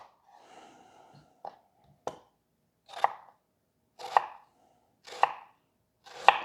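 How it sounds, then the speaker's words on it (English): An onion being diced with a very sharp Rada knife on a cutting board: several crisp chops at a slow, steady pace after a soft rustle, close and clear with no talking. "let me get this onion diced up"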